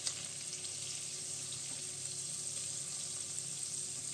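Garlic fries in oil in a pan while cooking rabbit in mustard sauce, producing a soft, steady sizzle that crackles faintly and never breaks.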